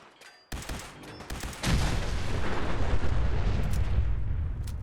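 Explosions erupt in the video game Fallout 4. A sharp blast comes first, then a second heavier one, and both roll into a loud, sustained crackling rumble that carries to the end without any talk.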